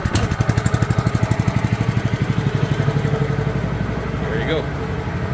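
A Comet P40 small engine idles low with a steady, rapid putter throughout, close and loud, with a brief voice speaking over it.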